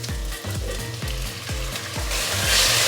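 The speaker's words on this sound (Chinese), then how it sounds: "現在把大火開到最大，醬油沿着鍋邊淋下去。" Soy sauce poured along the edge of a very hot wok over ginger slices sizzles loudly, the hiss swelling toward the end over rhythmic low thumps of stirring.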